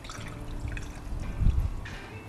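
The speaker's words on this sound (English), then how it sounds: "I can actually hear bubbling from this" Coolant bubbles and gurgles softly in the reservoir tank of a BMW E30 while its cooling system is bled, a faint watery trickle with a few louder burbles, close by and without talk.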